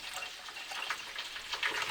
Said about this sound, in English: Now, insert some water.